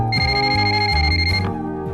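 A mobile phone ringtone plays loud and close, a bright electronic melody of stepping tones that cuts off after about one and a half seconds, leaving a fading tail.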